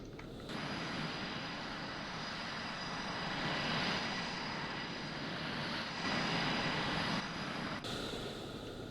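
Aircraft engine in the Call of Duty video game, a steady broadband roar that holds for nearly the whole stretch, swells a little midway and near the end, and shifts in tone at the close.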